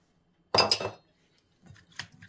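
A spoon adding a heaped spoonful of salt clinks and scrapes against a dish, a sharp burst followed by softer taps a moment later, close by and quiet otherwise.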